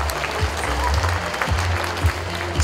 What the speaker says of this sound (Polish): Brawa dla pana trenera.